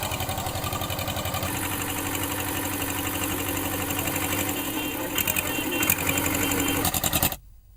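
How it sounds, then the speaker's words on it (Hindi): A tractor engine runs steadily while sowing a field, a loud rhythmic mechanical chugging that continues unbroken before cutting off abruptly at the end. "तभी उन्होंने ट्रैक्टर चलाया और खेत में बुआई करके इसका वीडियो बना लिया गया"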